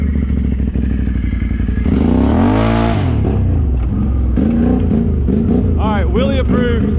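Can-Am 650 ATV engine revving hard during a wheelie in clay, loud and close with a rising-and-falling engine note and mechanical clatter throughout, while a person talks over it.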